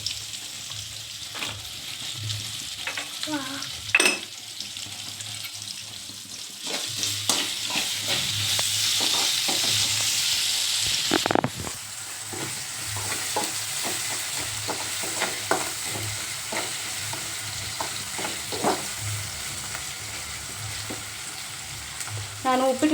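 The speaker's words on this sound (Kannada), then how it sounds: "ಉಳ್ಳಾಗಡ್ಡಿ ಫ್ರೈ ಆದಾಗ ಉಪ್ಪು ಹಾಕೊಂಡ್ಬರ್ತೀನಿ" Sliced onions frying in oil in a home kitchen pan while making upma, a steady close sizzle with repeated spatula scrapes and stirring knocks throughout, no talking.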